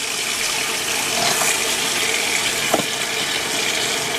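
Hot water pours from a tap into a plugged sink as a steady, hissing rush, fairly close and continuous, with a brief knock partway through and no voices.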